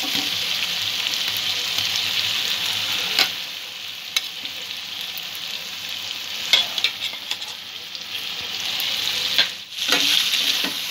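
Potatoes and broad beans frying with spice paste for a Bengali shol fish curry, a steady close sizzle broken by occasional spoon scrapes and stirring knocks throughout.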